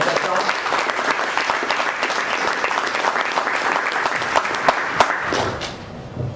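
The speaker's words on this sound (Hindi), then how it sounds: "मैं उनका भी जोरदार तालियों के साथ स्वागत करता हूँ" Loud, steady applause from an indoor audience welcoming two children onto a stage at a hosted event, dense clapping running throughout with a few sharper claps standing out near the end.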